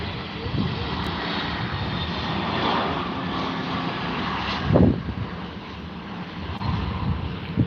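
British Airways airliner engines at London Heathrow at night, a continuous loud roar and rumble with a swell near the middle, heard from a distance with wind noise.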